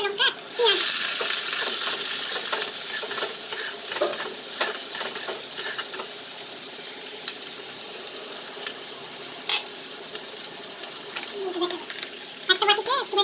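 Green chili and onion frying with chopped garlic in a pan, a loud hiss bursting up at the start and then a steady sizzle with scraping stirs and occasional utensil clinks, close by.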